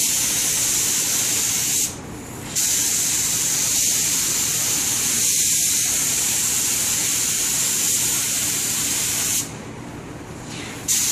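A spray gun sprays a finish coat onto nightstand drawers, a continuous hissing spray running loud and close, cutting out briefly twice before resuming, with no talking.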